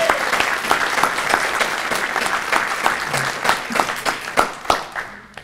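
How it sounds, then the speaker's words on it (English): An alumni brunch audience gives a full round of applause, steady dense clapping that thins out toward the end, with a few voices audible underneath. "So a big round of applause for us."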